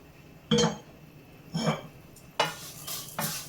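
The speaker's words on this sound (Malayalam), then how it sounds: "ഇനി ഇതേ നെയ്യിലേക്ക് നമുക്ക് എടുത്ത് വെച്ചിരിക്കുന്ന സേമിയ ഒന്ന് റോസ്റ്റ് ചെയ്തെടുക്കാം" Vermicelli (semiya) roasting in ghee in a pan, heard as four scraping stirs with a soft sizzle under them, close and fairly quiet, with no talking.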